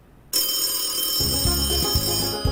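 Telephone bell ringing as a sound effect for a radio call-in promo, loud and close, starting suddenly and then repeating as a steady rhythmic ring, with no talk.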